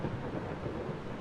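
A thunderstorm rumbles in the video game Eastshade, a steady low roar of thunder and rain filling the short stretch with no voices over it.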